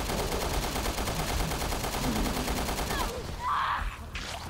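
Gunfire in the Resident Evil co-op shooter game rattles in rapid, loud bursts of repeated shots that run steadily for a few seconds and then cut off, followed by other game noises and brief voices.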